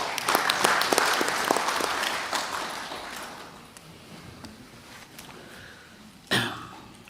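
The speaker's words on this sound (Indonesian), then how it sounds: "Kita aplaus lah ya buat beliau mestinya" An audience at an Indonesian political hearing applauds, a steady patter of clapping that swells early, then thins and fades, with a cough and throat clearing near the end.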